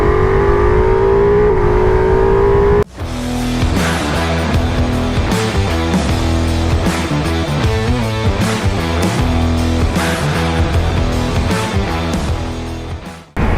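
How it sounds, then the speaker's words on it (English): A Ducati Multistrada V4S motorcycle engine drones loudly and continuously on the road, with repeated rises and falls as it revs and shifts through gears, heard close with wind rush and no speech. "I'm back out on the Ducati Multistrada V4S."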